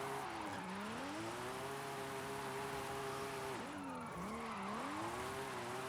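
A drift car engine in Forza Horizon 5 holds high revs and bounces against the rev limiter, a continuous strained whine that dips and climbs repeatedly, with a hiss of tire noise underneath.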